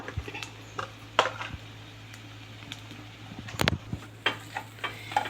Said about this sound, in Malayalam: ഇപ്പോൾ ഇനി ഇതിനകത്തേക്ക് മഞ്ഞൾപ്പൊടിയും മുളക് പൊടിയും മല്ലിപ്പൊടിയും കൂടെ ചേർത്ത് ഒന്നുകൂടെ ഒന്ന് നന്നായിട്ട് മൂപ്പിച്ചെടുക്കാവേ